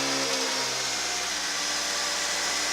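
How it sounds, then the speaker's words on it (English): An Acura RSX engine runs just after a clutch install, giving a steady idle hum with a constant whine and no voices over it. "Putting the battery in now, and go ahead and give it its first start."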